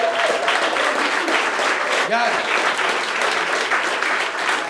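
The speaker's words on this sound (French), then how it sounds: "On peut applaudir les humoristes" A comedy game show audience applauds the comedians in a dense, steady wash of clapping, while a voice speaks briefly over it partway through.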